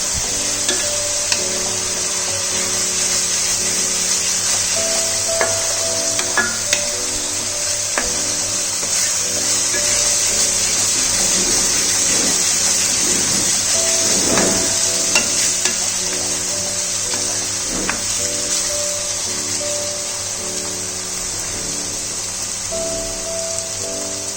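Onions frying with spices in a pan, with a steady close sizzle and intermittent scraping and stirring strokes running throughout.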